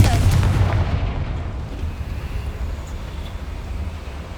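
A Confringo blasting spell explodes in Hogwarts Legacy with a loud, close boom that rolls into a long, deep rumble and slowly fades.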